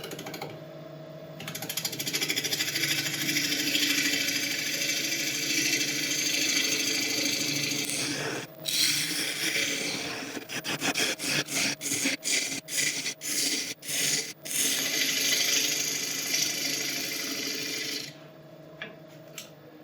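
An African mahogany bowl spins on a lathe as the face is cut flat, a steady rasping scrape of the tool on wood, loud and close. A run of short rhythmic bursts breaks it up midway before the even cut resumes.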